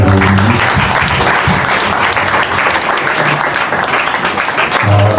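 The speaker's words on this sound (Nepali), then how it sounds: "सबैले ताली" Loud, dense applause from the congregation fills the whole stretch at a Christian wedding ceremony right after the ring exchange, continuous clapping close by with some voices mixed in.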